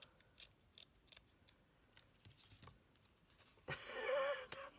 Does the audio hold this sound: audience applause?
no